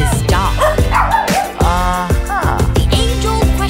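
A dog yips and barks in quick, loud bursts with whimpering, whiny tones between them, close and clear, set against an underlying musical backing.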